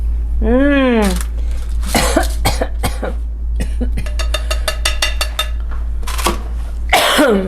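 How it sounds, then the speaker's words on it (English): Several sharp coughs ring out close by in a short burst, mixed with voices and some clattering in the background. "Here, coughing."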